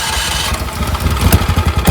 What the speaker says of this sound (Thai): แล้วก็สตาร์ทกุญแจ มือก็บิดคันเร่งนิดหน่อยนะครับ